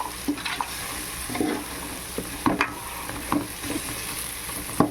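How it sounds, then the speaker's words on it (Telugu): Masala powders and tomatoes fry in a pan for prawn biryani, a steady low sizzle broken by several short scraping stirs at irregular intervals, close and fairly quiet with no talk. "ఇప్పుడు ఆ మసాలా పొడులు టమాటాలు వేసేసుకున్నాను ఇది కాసేపు మగ్గనిద్దాం"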